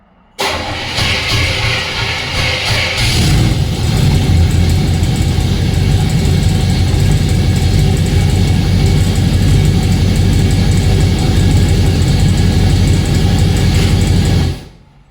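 A 1935 Chevy Master Deluxe engine cranks over on the starter for about fourteen seconds, a loud, steady, rhythmic churning that never catches, then stops abruptly.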